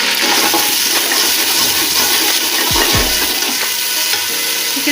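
Ginger and garlic paste frying in a pot, with a steady loud sizzle and a stirring scrape partway through.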